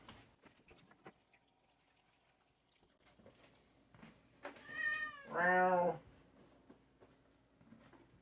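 A cat meows twice in close succession, the second call louder and longer, against quiet room noise with faint rustling.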